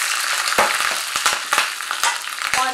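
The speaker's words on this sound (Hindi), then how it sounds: "जैसे ही ऑयल गरम हो जाएगा हम इसमें ये सरसों डाल देंगे" Mustard seeds and green chilies sizzle and crackle in hot oil, a loud steady frying hiss broken by sharp pops and spatters throughout, with no voices.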